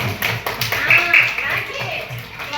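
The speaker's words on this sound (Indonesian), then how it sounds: "beri tepuk tangan ketua" Schoolchildren in a classroom clap in a quick, rhythmic unison pattern, loud and close, while a teacher's voice and other speech run over the claps.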